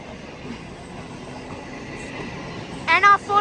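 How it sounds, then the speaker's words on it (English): A freight train hauled by locomotives rolls past a platform at Meadowbank station in Sydney, a steady low rumble of cars with a brief squeal of wheels near the end. "We have another freight train 3 BA6 passing platform number 1."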